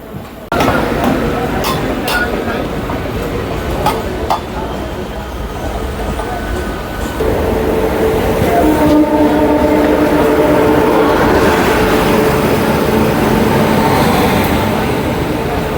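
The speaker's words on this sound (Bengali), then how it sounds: "এই দিক থেকে হাওড়ায় অ্যারাইভাল হচ্ছে হাওড়া অমৃতসর মেল।" A Howrah–Amritsar Mail train pulls into Howrah station, a steady loud rumble of rolling coaches and platform din building through the clip, with voices heard over the noise.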